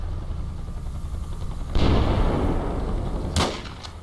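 Sniper rifle shot in the tactical shooter game Project Reality, a single sharp loud blast with a rolling tail, followed by a second fainter crack, over quiet ambient game noise.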